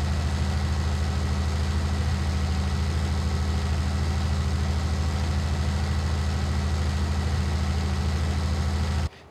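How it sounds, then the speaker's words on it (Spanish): A low-powered tractor in the Farming Simulator 19 video game chugs uphill, its engine droning steadily and loudly at a constant pitch for about nine seconds before cutting off abruptly, with no talk over it. "tendrá poca potencia este tractor, pero la cuesta la sube"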